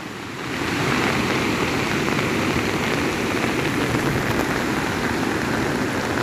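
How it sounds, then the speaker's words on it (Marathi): A dense, constant roar of a swollen, overflowing river during heavy rain in Konkan, loud and close, swelling in after a moment and holding steady with no voices. "ओसंतून वाहतं आहे पाणी"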